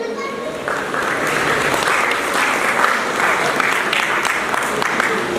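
An audience at a stage event bursts into sustained applause, a dense wash of many hands clapping that holds steady and loud, with a voice speaking over the crowd.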